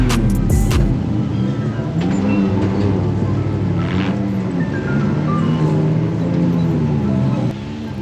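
Off-road race cars roll past on a rocky desert trail at King of the Hammers, engines droning and shifting pitch as they pass close by, with a brief sharp burst at the start and steady mechanical noise throughout.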